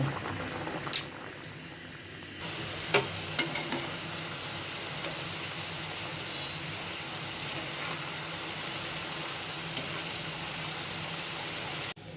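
A Bengali-style bhaji of papaya and fish roe cooks in a pan, producing a steady bubbling sizzle that runs unbroken and fairly quiet, with a couple of faint clicks near the start.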